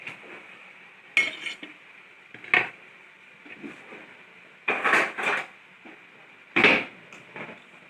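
Several short scraping and clinking bursts of a fork pulling cooked meat off the bone on a plate, for borscht, spaced irregularly over quiet background hiss, no talking.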